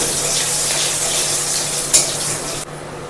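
Garlic and a dried red chilli frying in hot oil, a dense, loud sizzle running steadily up close before dropping off abruptly near the end.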